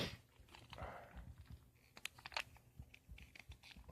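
A small 1997 WWF Slammers wrestling toy figure makes faint, close crunching and clicking sounds from its bone-crunching action in the legs, irregular little cracks over a quiet handling background.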